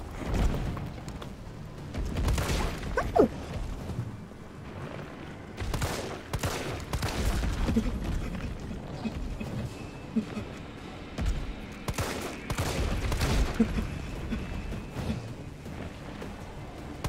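Bursts of gunfire from Resident Evil 3, loud sharp shots scattered across a busy mix of game sound, with several clustered volleys.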